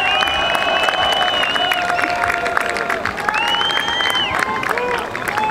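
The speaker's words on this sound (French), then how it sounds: "On peut l'applaudir." A crowd at a car rollover stunt show claps and cheers loudly, with shrill whistles and hubbub woven through the applause and voices talking over it.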